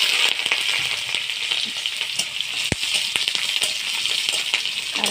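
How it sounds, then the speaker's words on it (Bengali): Onion, garlic, whole cumin and slit green chillies fry in hot oil in a kadai, producing a loud, close, continuous sizzle with occasional stirring scrapes and one sharp tap. "কড়াইতে তেল গরম হয়ে গেছে। এখন আমি দিয়ে দেব গোটা জিরে ফোড়ন, দুটো তিনটে কাঁচা লঙ্কা চিরা,"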